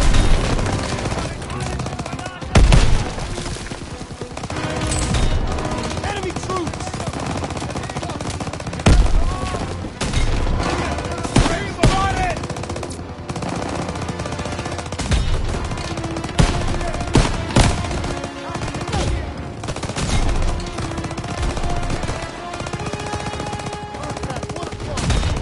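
Dense machine-gun bursts and scattered gunshots crackle nonstop through a Call of Duty: WWII battle, loud and close, with heavier thuds near 3 and 9 seconds and shouted voices mixed into the din.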